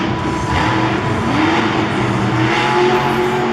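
Monster Mutt Dalmatian monster truck roaring loud and steady as it spins a donut at a Monster Jam freestyle event in St. Louis, engine pitch rising and falling with the rotation over a constant crowd-and-arena wash.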